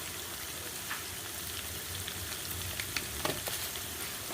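Spices with turmeric and salt fry for a Bengali mutton curry, a dense, close crackling sizzle that runs throughout, with a few faint stirring scrapes near the end.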